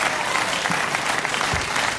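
A studio audience at a late-night television talk show applauds steadily, a dense, even wash of many hands clapping close by that holds for the full two seconds.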